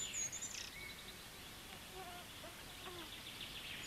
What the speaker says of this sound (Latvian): Arī šim sirstenim dzīres saldā ābolā iespējams ir pēdējās